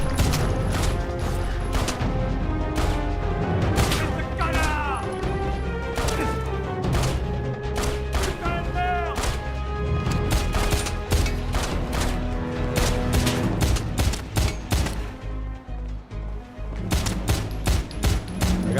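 Rapid, loud gunfire from the action video game Stranglehold, with sharp shots cracking in dense bursts and irregular volleys over a continuous musical score, sustained for nearly twenty seconds with no speech.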